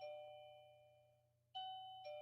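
A doorbell ringing at home, two clear chime tones ringing out alone, fairly quiet with decaying tails.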